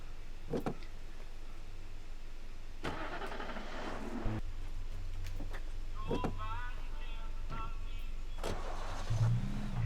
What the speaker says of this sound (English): Yeah, let's take the Jeep.